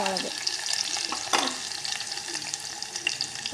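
Onions sizzle and crackle steadily in hot oil at close range, a dense frying hiss with a few scraping stir strokes and a louder clatter partway through.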